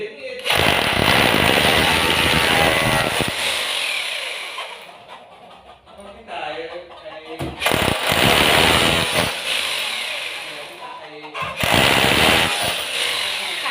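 A loud power drill grinds into a concrete wall in several bursts, stopping and restarting, with a quieter gap where someone speaks between bursts.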